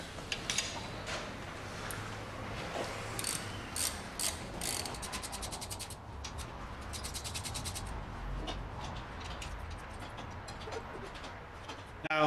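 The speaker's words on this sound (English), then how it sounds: "all we need is obviously a 7mm Allen key to take off the caliper" Ratcheting and metallic tool clicks while a seized brake caliper is removed from a VW Passat with a 7mm Allen key in a home garage, busy close mechanical clatter throughout with no talk.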